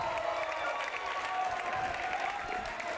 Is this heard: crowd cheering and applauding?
yes